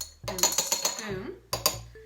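A metal spoon clinks sharply against dishes and a tray several times while ingredients are set out for pork meatballs, the rapid bright taps coming in two short bursts with a pause between.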